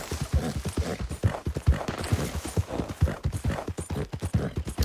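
A horse gallops in Red Dead Redemption 2, its hooves pounding in a fast, steady clip-clop rhythm, close and prominent with no talking.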